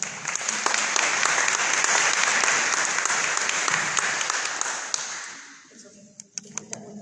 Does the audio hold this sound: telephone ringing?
no